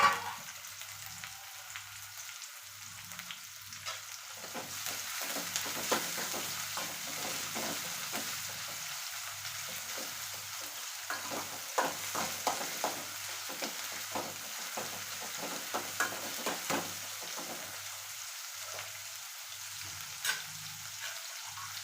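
Chopped tomato is added to a pan and fried, with a soft sizzle running throughout while a spoon stirs and scrapes in bursts. The sound is close and fairly quiet, with no talk.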